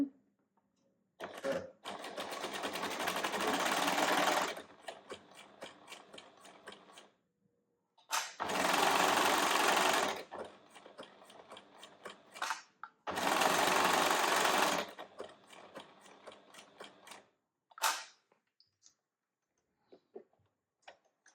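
A domestic sewing machine runs a decorative stitch, number 44, in three loud sustained bursts of steady rapid whirring, each a few seconds long, separated by short pauses and followed by a brief final burst and quiet handling clicks.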